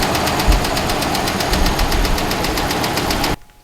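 Hemi V8 in a Dodge Ram idling with a fast, steady ticking tapping over the engine rumble, loud and close, evenly spaced clicks running continuously before cutting off abruptly.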